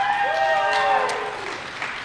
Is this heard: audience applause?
yes